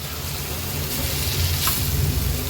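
Steady oil sizzling and crackling as bitter gourd sautés in a pan, continuous and close, with no voices.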